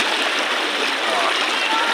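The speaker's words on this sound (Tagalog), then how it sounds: "Lakas ng agos ng tubig dyan." Strong river current at Tiboy River in Baco, Oriental Mindoro rushes loudly and steadily, a dense close hiss of fast-flowing water filling the whole stretch.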